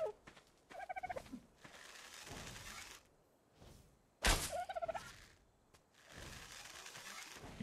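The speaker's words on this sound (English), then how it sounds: "There's one of those fucking birds again." Dodo birds in the survival game ARK give squawking, gobbling calls in two loud bursts separated by quieter stretches, with a sharp crack of game noise at the start of the second burst.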